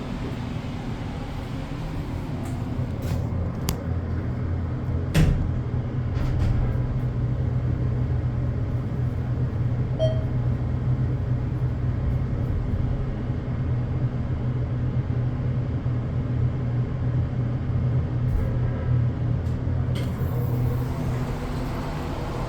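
A ThyssenKrupp scenic glass elevator in Sarasota, Florida, riding with a continuous low rumble and hum, broken by a few faint clicks and taps, with no talking over it.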